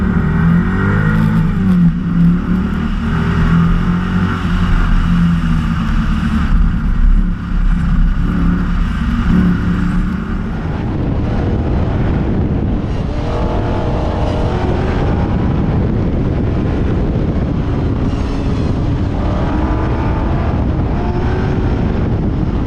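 A race car engine in a sim racing game roars loudly and continuously, revving and shifting through gears under a sequential shifter, the tone dropping and rumbling lower partway through.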